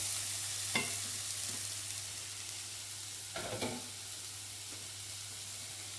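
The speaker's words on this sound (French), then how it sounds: "Et je les fais revenir avec les oignons." Noodles and onions sizzle softly in a hot pan, with a couple of brief scraping stirs breaking through the steady crackle.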